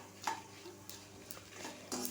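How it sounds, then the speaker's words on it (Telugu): Coriander seeds and cumin are dry-fried and stirred in a kadai, with a light scraping rustle and a few soft clinks over a quiet background, near and without speech. "2 టేబుల్ స్పూన్ల ధనియాలు, 1 టేబుల్ స్పూన్ జీలకర్ర వేసుకొని ఫ్రై చేసుకోవాలి ఫ్రెండ్స్"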